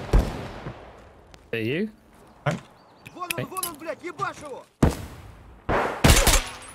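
Escape From Tarkov gunfire sounds as several sharp cracks spaced a few seconds apart, heard beneath players talking.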